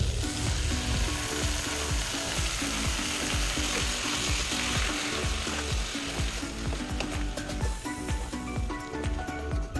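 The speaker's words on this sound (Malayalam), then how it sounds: "ഇനി ഇതിലേക്ക് നമ്മൾ ഓൾറെഡി കഴുകി വൃത്തിയാക്കി വെച്ചിട്ടുള്ള കൂണ് ചേർത്ത് കൊടുക്കാം." Washed mushrooms are stirred into a pan of frying tomatoes and capsicum for mushroom masala, giving a loud, continuous sizzle with rapid rhythmic scraping of a spoon throughout.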